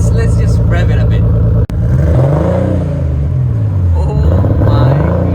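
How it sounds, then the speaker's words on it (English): A Nissan R32 Skyline with a newly fitted exhaust revs up loud and close, its engine rising and falling in pitch through several sweeps over a steady idle rumble, after a brief cut near the start. "Let's just rev it a bit."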